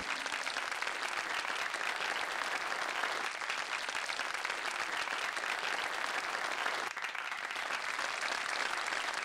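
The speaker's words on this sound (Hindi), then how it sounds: "तालियों से स्वागत कीजिए प्लीज" Audience applause welcoming a show stopper at a fashion show, sustained and even, a thick continuous roar of many clapping hands with a faint crowd murmur beneath it throughout.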